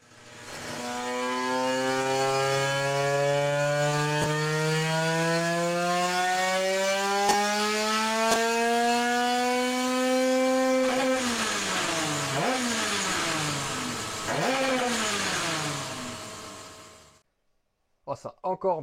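A small 100cc two-stroke Derbi moped engine revs up steadily with a rising buzzing whine, then blips sharply a few times before shutting off.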